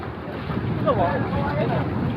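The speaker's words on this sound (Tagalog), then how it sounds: "At malakas ang hangin." Steady strong wind buffets the microphone in a dull, continuous roar while out fishing for milkfish, with a faint voice briefly audible under it.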